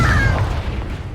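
A single booming blast from the Confringo explosive spell in Hogwarts Legacy, loud and close at the start with a low rumble that slowly fades.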